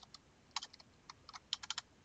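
Short bursts of quiet clicking from a computer keyboard, irregular keystrokes clustered in quick runs, faint and close, with no voices.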